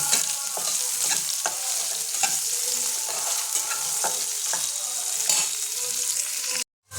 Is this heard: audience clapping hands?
no